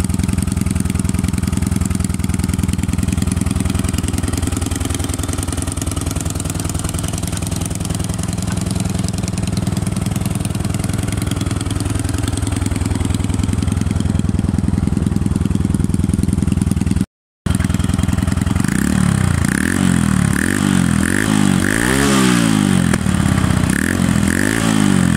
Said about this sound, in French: Je vais vous montrer un petit passage en extérieur, un petit tour de la moto et un démarrage.